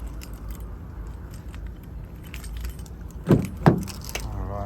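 Two Ford Ranger XL car keys, one remote and one auxiliary, jangle in two quick close bursts over a low steady background hum.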